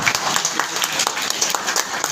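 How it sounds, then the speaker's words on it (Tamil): Audience applause at a Tamil poetry book launch speech, a steady wash of many hands clapping for about two seconds at moderate loudness, with no talking over it. "இது கண்டிப்பா நீ கைத்தட்டணும்."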